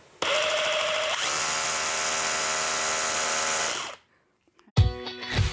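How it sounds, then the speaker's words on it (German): An electric drill boring a hole whines loudly at high speed for several seconds, its pitch shifting as it bites in, then cuts off; a short burst of noise follows. "So, und jetzt setze ich nochmal an. Hier kommt jetzt mein Bohrloch."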